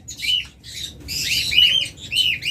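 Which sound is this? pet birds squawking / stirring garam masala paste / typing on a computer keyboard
pet birds squawking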